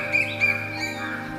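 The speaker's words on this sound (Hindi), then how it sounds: "सुबह नत्थू की नींद चिड़ियों की चहचहाहट से खुली" Morning birds chirp in a village, giving a few short, bright tweets over a steady tonal hum.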